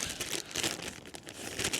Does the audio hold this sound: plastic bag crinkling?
yes